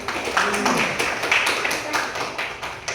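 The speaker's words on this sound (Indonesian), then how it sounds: "Beri tepuk tangan dulu untuk teman kalian." Small classroom group clapping for a classmate during a lesson, a short burst of uneven, scattered claps at close range, moderately loud, with a little speech mixed in.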